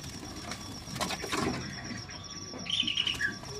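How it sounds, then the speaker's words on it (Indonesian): Caged SRDC birds from Bali flutter and chirp at a bird dealer's shop, with brief wing flaps and a short run of high, close tweets near the end over a low background hum. "Untuk hari ini ready juga burung SRDC Ori Bali ya pemirsa nih."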